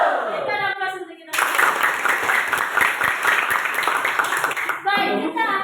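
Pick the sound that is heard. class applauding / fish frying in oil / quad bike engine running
class applauding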